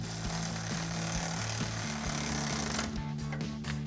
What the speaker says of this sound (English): take a 5mm Allen socket and a 13mm wrench to tighten down the bolts on our accessory bar